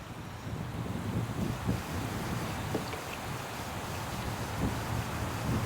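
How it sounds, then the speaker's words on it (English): Strong south wind buffets a dock in winter, a steady, loud roar of wind noise against the microphone with broadband rumble throughout and no speech. "The wind's hitting me so hard. It's a south wind"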